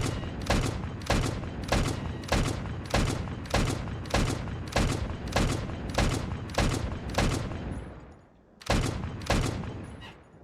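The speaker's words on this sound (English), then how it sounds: "it looks like our autoloader is working, or our auto cannon, main caliber" Autoloading main-caliber auto cannon in the game Stormworks firing a rapid, regular series of heavy booming shots, about a dozen in quick succession, a short gap, then several more, loud and close.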